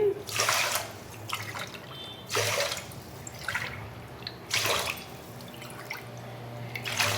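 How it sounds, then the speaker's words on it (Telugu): Water is poured glass by glass into washed rice in a pot, about five separate splashing pours with short pauses between them, close and clear. "ఐదు గ్లాసుల వాటర్ పోసుకోవాలి"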